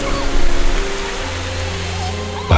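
Steady rain falling in a game scene, a soft continuous wash of drops on a surface with a low hum beneath, alone and unbroken until a brief louder burst at the very end.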